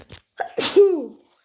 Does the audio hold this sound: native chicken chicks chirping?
no